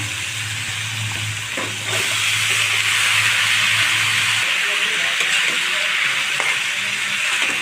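Taro stolons go into a pan of frying spices with green chillies for a hilsa fish curry, raising a loud, steady sizzle that swells after they drop in, with a few scraping stirs and no talk.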